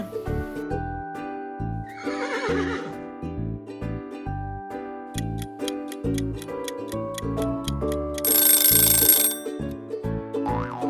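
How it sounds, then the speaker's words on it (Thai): A horse whinnies loudly in a rising, quavering call, set against steady rhythmic ticking and clip-clop beats, with a bright ringing burst near the end. "เฉลยค่ะ เสียงของม้านั่นเองค่ะ"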